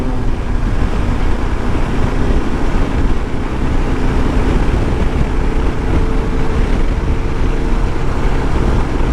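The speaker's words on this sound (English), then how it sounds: "It's windy out, I do have to say that." Strong wind buffets the microphone on a windy outdoor ride during a road trip to Eureka Springs, Arkansas, a loud, constant rumbling roar with no break.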